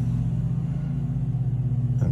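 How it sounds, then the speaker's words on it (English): A steady low engine drone hums close by, constant and rumbling, like a mower running nearby without pause. "Sorry, my grass guy cutting my grass."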